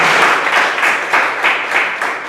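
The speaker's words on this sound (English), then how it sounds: "I would request every one of you to give a big round of applause" Audience at a Toastmasters meeting claps after a speech, a brisk, even round of applause that stays loud and full for a couple of seconds before easing slightly.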